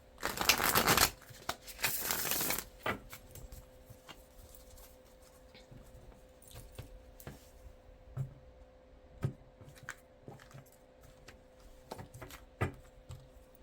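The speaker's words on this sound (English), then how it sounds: "One more shuffle and then I'll cut the deck." A tarot card deck is shuffled up close, with a couple of seconds of loud riffling at the start, then scattered soft taps and clicks as the cards settle.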